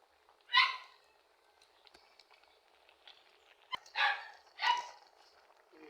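Dogs bark outdoors at a home, three short sharp bursts spaced over a few seconds, moderately close, with quiet background in between and no talking.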